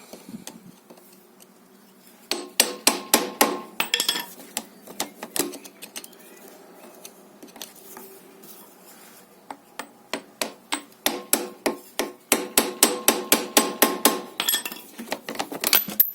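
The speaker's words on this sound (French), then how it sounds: "on prend un tournevis, on prend le petit marteau" Small hammer strikes a screwdriver to drive out a motorcycle chain rivet during a chain kit replacement, sharp metallic taps coming in rapid bursts of about ten blows each, close and loud, with quieter scraping between bursts.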